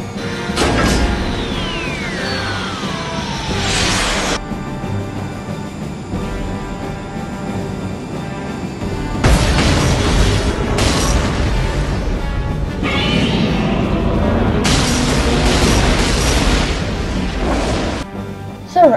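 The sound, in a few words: missiles fired and exploding in a sci-fi film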